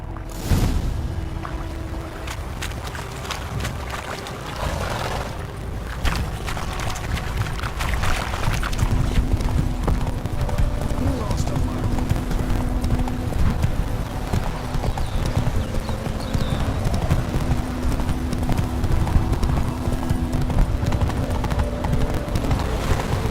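A horse gallops across open ground in Witcher 3, its hooves pounding in a steady, rapid clip-clop rhythm close by and sustained over a low rushing ambience and soft game music.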